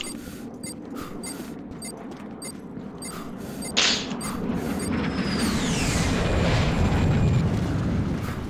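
Planted mine detonating in a video game, a sharp blast that gives way to a long, rumbling roar swelling into a sustained, noisy aftermath over steady background ambience.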